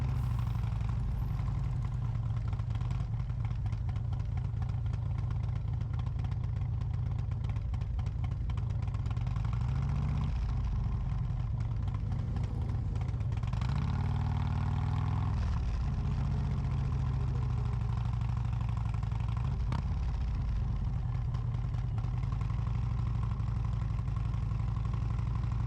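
Motorcycles at Daytona Bike Week, Harley-Davidson bikes rumbling at low speed and idling while riding around a crowded lot, a steady loud engine drone that swells and dips without let-up.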